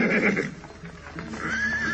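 A horse whinnies loudly and close as riders mount for departure, a shrill neigh at the start and another rising call near the end, with light hoof movement underneath.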